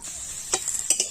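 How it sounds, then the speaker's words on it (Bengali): A papad fries in oil in a wok, with a brief sizzle and a few quick clinks and scrapes of a utensil, up close. "পাঁপড়টা ভেজে নিচ্ছি"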